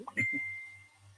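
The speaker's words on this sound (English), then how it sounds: "I didn't set my phone to do any bing, bing. Looks like it's Messenger." A Messenger notification chime rings once from a mobile phone, a clear bright ding that rings out and slowly fades, with a soft low hum underneath.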